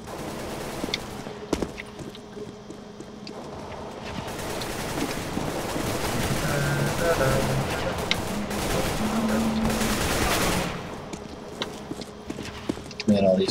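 AK-47 rifle fire in a Counter-Strike: Global Offensive deathmatch comes as scattered sharp shots and short bursts over a busy game soundscape, with some shots near and others distant.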